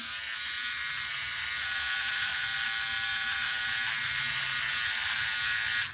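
A Philips OneBlade electric shaver buzzing steadily across a face, a close, constant high-pitched electric hum that holds evenly and cuts off abruptly at the end.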